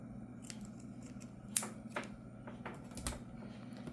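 A crochet yarn strand is snipped with scissors, giving a few sharp little clicks and snips close by over a low steady hum, quiet and with no one speaking.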